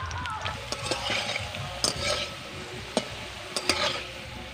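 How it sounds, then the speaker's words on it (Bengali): Potatoes frying in a pan while being stirred, a close sizzling hiss broken by sharp scraping and clinking strokes of a spatula at irregular moments, moderately quiet, with no voices. "এবার আমি আলুকে ভেজে নেব।"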